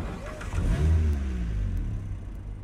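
A car in Cyberpunk 2077 pulls away, its engine revving up and holding a steady mid-pitched drone close by, with no voices over it.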